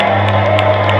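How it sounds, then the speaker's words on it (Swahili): At a political rally, a crowd cheers and whoops loudly in a brief, dense burst of voices over steady amplified hum, with no clear individual claps standing out. "Makofi basi kwa wingi sana."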